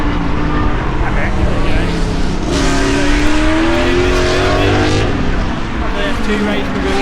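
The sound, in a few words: Porsche 911 driving a lap of Silverstone circuit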